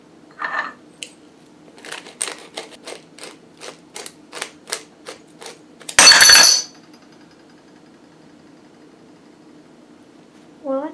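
A ceramic pepper grinder cracking peppercorns gives a run of crisp, evenly spaced clicks, then the grinder breaks with one loud, sharp, close crash and a brief rattle, followed by quiet.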